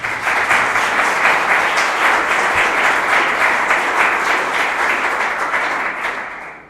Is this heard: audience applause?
yes